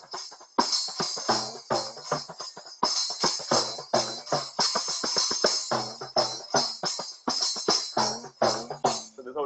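A kanjira, a small frame drum with jingles, plays a steady repeating rhythm pattern of crisp, bright strokes. The strokes are close and moderately loud, with no voices.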